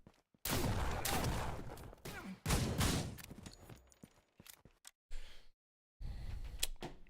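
Shotgun gunfire in a video game, a few heavy blasts with brief gaps between them, close and loud, with quieter game noises in the pauses.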